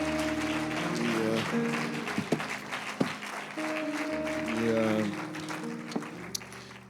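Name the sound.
church congregation applause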